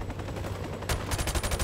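Rapid gunfire from the video game Modern Warfare Remastered crackles in quick automatic bursts, moderately loud and close, with no talk over it.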